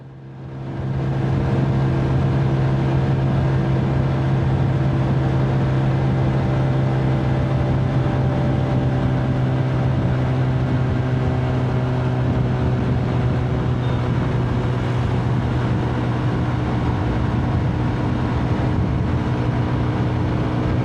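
A steady, loud motorbike engine drone at high revs on a bypass road holds a constant pitch for the whole stretch, with a strong low hum and dense rumble, and no voices.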